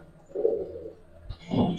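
A pair of Silver Khaki Subchila pigeons coo nearby, two soft throaty coos separated by a short pause, the second one fuller; no one speaks.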